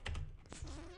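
Quiet clicks of someone typing on a computer keyboard while writing code, a short uneven run of keystrokes close to the microphone.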